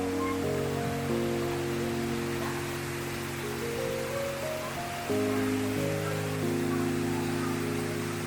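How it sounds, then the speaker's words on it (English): A jungle waterfall near Hai Van Pass outside Da Nang, Vietnam, a steady broad rushing roar that runs unbroken throughout, close and even, with low humming tones layered over it. "But this waterfall was totally worth it."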